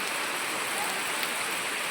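Rain falls steadily on surfaces outside a house, a soft, even hiss of drops that holds without a break and without voices.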